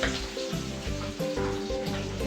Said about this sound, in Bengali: আর ওইদিকে মাছ ভাজা হচ্ছে।